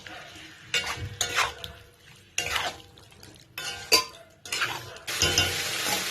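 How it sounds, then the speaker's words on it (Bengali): Lote fish being mixed with cumin and chilli powder in a bowl, heard as several short bursts of wet stirring and scraping with a utensil clinking against the dish, close and without voices. "এবার এর ভেতরে একটু লঙ্কার গুঁড়ো দিয়ে দিলাম। ব্যাস, এবার ভালো করে মিক্স করতে থাকবো।"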